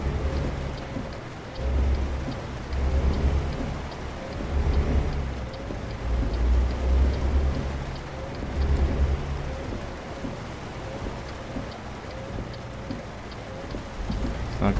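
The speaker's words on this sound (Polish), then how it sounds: "Niestety pada, niewiele widać w mieście." Steady rain falls in American Truck Simulator, a continuous hiss of drops drumming on the truck, with low rumbling swells and a soft rhythmic wiper-like pulse repeating throughout.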